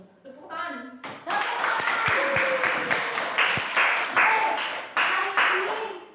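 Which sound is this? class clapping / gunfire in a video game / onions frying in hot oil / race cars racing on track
class clapping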